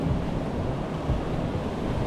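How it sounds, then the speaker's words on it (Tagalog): Sea waves break and wash in a continuous, loud roar of surf, with some wind buffeting the microphone and no voices. "Tapos ang alon pa naman yan"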